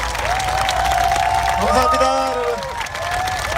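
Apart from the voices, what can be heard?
audience applause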